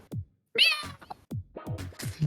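Several people imitate cat meows with their voices, a quick run of drawn-out, whiny mews traded back and forth, fairly close and loud with short gaps between them.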